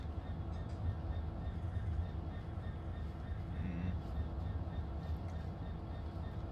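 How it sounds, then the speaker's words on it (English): A train rolls steadily in the Train Sim World 2 video game, a continuous low rumble of wheels and engine with faint rail clatter throughout and no break in the sound. "here is the train that we are about to make pretty good friends with"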